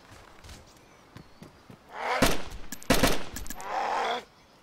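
Gunfire in the video game DayZ: a few sharp, loud broadband shots in quick succession over about two seconds, each with a noisy tail, then quieter game ambience.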